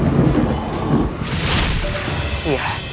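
Thunder crash sound effect, a loud rumbling boom and rush of noise across the clip, with a voice speaking in the background.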